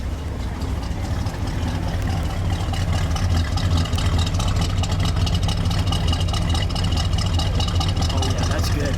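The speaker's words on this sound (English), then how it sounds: "Let's hear the exhaust note." A 1965 Buick Riviera Gran Sport idles with a deep, steady exhaust rumble, close by and constant, growing slightly louder partway through, with faint voices underneath.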